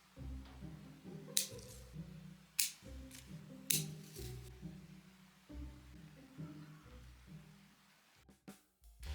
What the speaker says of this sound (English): That means I need to cut spent flowers now.